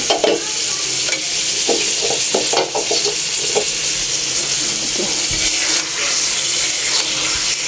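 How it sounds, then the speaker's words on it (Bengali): Fish sautés in hot spiced oil in a pan with a loud, continuous sizzle. Repeated scraping stir strokes cut through the frying, and no one speaks. "মাছটা দিয়ে আমি হালকা একটু কষাবো"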